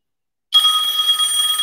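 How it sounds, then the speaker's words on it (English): A telephone rings after about half a second of silence, a loud, steady electronic bell tone that continues without a break to the end. "And his phone will start ringing in a minute."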